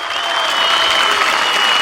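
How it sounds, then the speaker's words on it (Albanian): A large crowd at a Socialist Party rally in Kuçovë, Albania, claps loudly and steadily to welcome Edi Rama. The applause is dense and close, with faint cheering mixed in. "unë dua një duartrokitje shumë të fortë"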